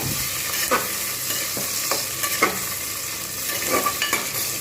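Mutton curry masala frying and being stirred in a pan, a steady close sizzle with occasional scraping stir strokes.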